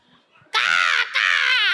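A woman imitates a crow with two harsh, raspy caws in quick succession, loud and close after a faint murmur.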